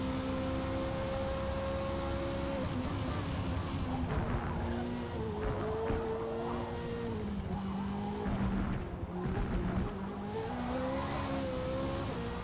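Rear tires spin and squeal on a Porsche race car in Forza Motorsport, a steady loud engine drone with a wavering tire whine running over it the whole time.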